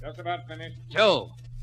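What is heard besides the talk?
None of the usual background noises is heard.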